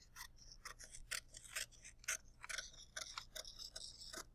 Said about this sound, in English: you're going to cut off this excess here